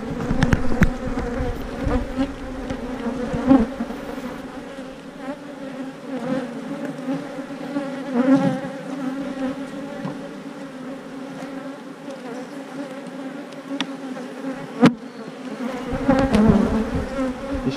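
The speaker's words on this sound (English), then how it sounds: "A lot of bees in here." A loud, dense buzzing of a mass of bees close by, humming continuously with slight swells in intensity.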